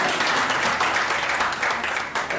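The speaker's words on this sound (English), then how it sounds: "An even better round of applause for the others" Audience at an African indie book prize award ceremony giving a round of applause, dense crowd clapping that stays steady and fairly loud throughout the short burst.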